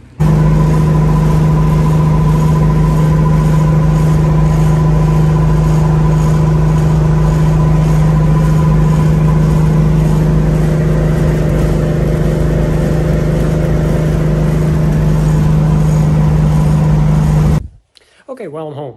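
A car drives along the road with a loud, steady engine drone and road and wind rumble close inside, holding constant before cutting off abruptly near the end.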